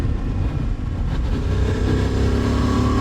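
A Voge DS900X 900cc adventure motorcycle engine being revved hard on an open road, a loud, steady roar with rising pitch over a few seconds, recorded close with wind rush.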